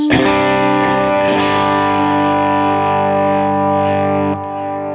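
A clean electric guitar chord through an amp modeler set to a Vox AC30-style tone rings out and sustains with a slight shimmer, then fades and is cut off near the end, with no voices.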